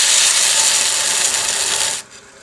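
A VEVOR 30 x 1-inch variable-speed belt grinder sander grinds down a metal screw, a loud steady close-up abrasive roar that drops abruptly to a quieter motor hum near the end.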